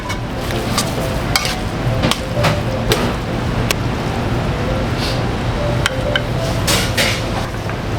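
A utensil stirs carbonara pasta loosened with starchy cooking water in a steel bowl, giving wet scraping and repeated sharp clinks against the metal, close and fairly loud.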